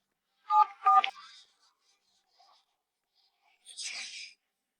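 A few quick beeps of a telephone being dialed, close and fairly clear, followed by a short breathy hiss after a brief quiet pause.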